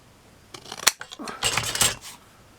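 Scissors cutting a small piece of material for a miniature boat shack: a few close, crisp snips and rustles over about two seconds.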